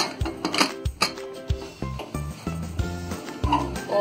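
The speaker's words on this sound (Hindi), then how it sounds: "और अब लगा देंगे हम इसका ढक्कन" A pressure cooker lid is set and locked onto the pot of mutton methi malai, giving a series of close metallic clinks, scrapes and knocks in an uneven rhythm, with no talking.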